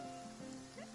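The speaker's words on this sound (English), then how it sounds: "It's raining." Rain falls in a fantasy video game world, a quiet, steady patter under faint musical tones, with no voices.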